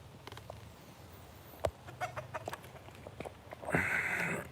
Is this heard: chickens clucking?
yes